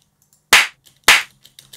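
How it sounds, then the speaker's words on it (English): Two loud, sharp claps from a clap sound sample being processed for music production, about half a second apart, each with a short decaying tail and faint low hum between them. "So maybe we could put a little bit of reverb on the clap."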